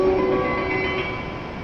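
A Hokuriku Shinkansen W7 series train on the Hakutaka service to Tokyo sits at platform 14 of Kanazawa station as it departs, giving a steady, moderately loud hum with tonal whine and station ambience throughout.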